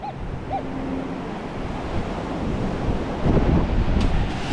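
Ocean surf and seawater washing on a beach during metal detecting with a Minelab Manticore, a steady, close, broadband wash with wind noise on the microphone and a slightly louder surge near the end, with no voices.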